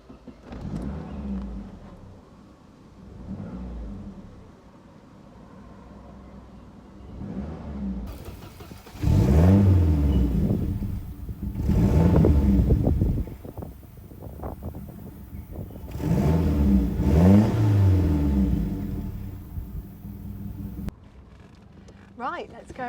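A turbocharged 1980s SAAB 900 Turbo engine cranks and starts, then revs hard several times in loud surges before settling back to a low idle; a voice talks over it.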